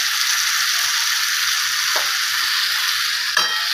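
Ginger, red chili and garlic paste fry with onion in a hot pan, producing a loud continuous sizzle with a couple of brief utensil scrapes.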